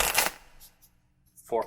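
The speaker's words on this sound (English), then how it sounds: "So you just shuffle them up" A deck of playing cards is shuffled in a brief, crisp riffle, close up, then silence before a voice begins speaking at the end.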